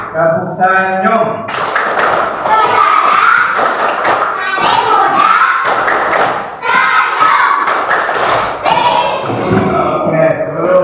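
Children in a fourth-grade Indonesian primary school class clap in rhythmic bursts while chanting loudly together, close and energetic. A voice leads in at the start.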